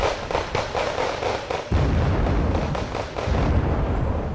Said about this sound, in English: We got these T-72As shooting at the Marines.